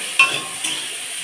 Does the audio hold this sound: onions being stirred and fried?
yes